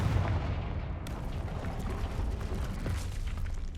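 A Confringo explosion spell cast in the Hogwarts Legacy video game bursts out abruptly about a second in and rumbles on as a dense, loud blast over a steady low game-ambience drone.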